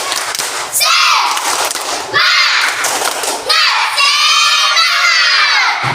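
Schoolchildren in an Indonesian classroom chant a spirit clap routine in loud, rhythmic bursts of shouted voices and thumping claps, with three or four rising waves close by.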